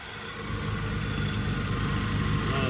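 A car engine running at idle on an auction lot in the rain, a smooth continuous low hum close by, growing slightly louder and holding steady with no voices.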